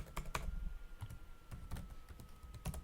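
Keys tapped on a computer keyboard while writing Python code, a quiet, close series of irregular clicks in short clusters with brief gaps between them.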